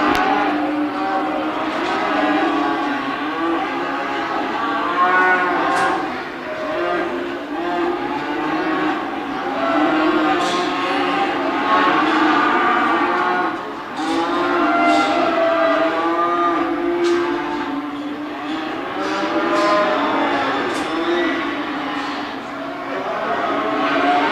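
Simmental Hereford cross heifers low and moo at a commercial cattle show and sale at a fall fair in Edam, Saskatchewan, with repeated calls over a loud, continuous barn din.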